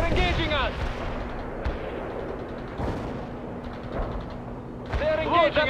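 Gunfire and artillery in the World in Conflict: Soviet Assault video game, with sharp bursts and booms scattered across the clip over steady battle noise, loudest near the start and end.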